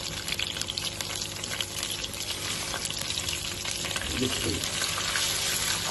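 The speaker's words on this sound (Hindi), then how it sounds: "घी गर्म हो गया, अब इसमें हम सूजी डाल देते हैं और इसकी बुनाई कर लेते हैं।" Semolina roasts and sizzles in hot ghee over a normal flame while it is stirred for halwa, a loud and close steady frying hiss with faint stirring scrapes and no talking.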